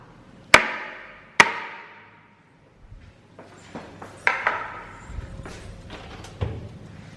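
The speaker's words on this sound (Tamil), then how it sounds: "லைட்டாக ஒரு டேப் பண்ணிவிட்டு உள்ளே வச்சிடலாம்" A cupcake pan filled with chocolate batter is tapped on a counter before baking, giving two sharp, ringing metallic knocks followed by several lighter clatters and knocks nearby.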